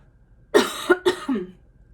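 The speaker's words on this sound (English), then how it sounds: "I'm going to give a little cough real quick right here." Two quick coughs in a row, close and clear, followed by a brief throaty rasp before falling quiet.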